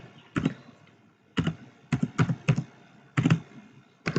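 Computer keyboard keys are struck in quick bursts and short clusters while typing a background color attribute into an HTML web page. The clatter is close and clear, with brief pauses between the bursts and no talking.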